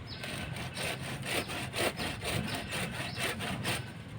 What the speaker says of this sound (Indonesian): kalau pakai gunting tidak bisa, kita pergunakan gergaji. Kita potong saja